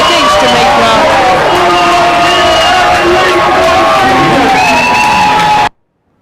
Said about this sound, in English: All the crowd up on their feet, singing away, cheering the boys.